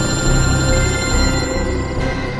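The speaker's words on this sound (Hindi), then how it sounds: "दया सर को फोन लगाता हूँ।" A telephone rings steadily for a couple of seconds at close range, a sustained electronic bell tone over a low background rumble in a crime drama scene.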